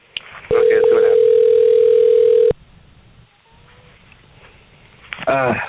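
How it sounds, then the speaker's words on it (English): A loud, steady telephone ring or dial tone holds for about two seconds and then cuts off abruptly, over a radio show broadcast. Quieter background follows, and a voice comes in near the end. "we got a phone ringing"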